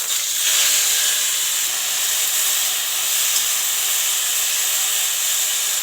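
Soaked jujubes hit hot oil with cumin in a wok for a pickle, making a loud, continuous, even sizzle that holds steady from start to finish.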